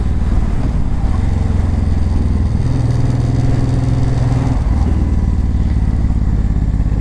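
A Honda VTX 1800 cruiser motorcycle being ridden, its big engine giving a loud, continuous low rumble with a steady throb. The pitch shifts briefly midway as the throttle changes.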